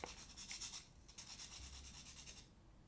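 Soft, steady rubbing of abrasive against a charcoal pencil tip, a quiet back-and-forth scratching that continues for a few seconds, then fades away.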